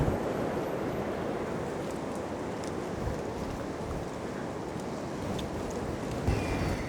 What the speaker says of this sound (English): it's windy. It's very, very windy, but it's not wet.